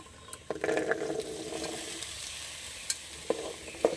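Chickpeas rattle and scrape as they are stirred in a hot, sizzling pan, with a few sharp spoon knocks near the end.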